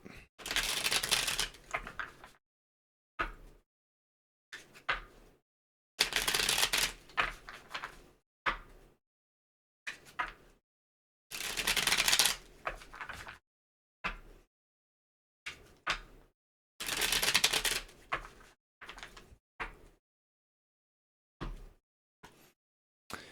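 Tarot cards being shuffled in repeated close bursts of riffling and papery slapping, separated by short silences, with no one speaking.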